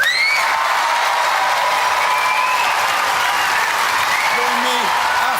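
Studio audience applause for the roboteers at a Robot Wars featherweight competition, a loud continuous wash of clapping with faint tonal sounds weaving through it.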